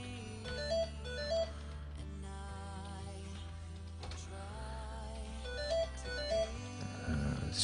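Mobile phone ringtone playing a repeating electronic melody, steady and moderately loud, heard alone without talk.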